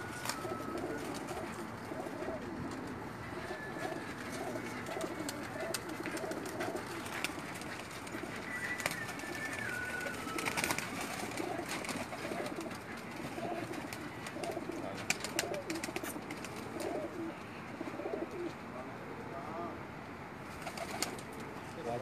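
Pigeons coo softly and repeatedly against a steady outdoor background, with occasional faint chirps; no one speaks.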